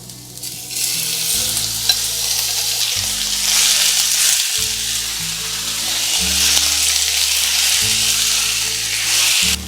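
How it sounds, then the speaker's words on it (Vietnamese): Beef stir-frying in a pan of hot oil with minced garlic and shallot over high heat, a steady loud sizzle with scraping stir strokes throughout, under a faint low background hum. "Xào với lửa lớn để cho nó mau chín hơn"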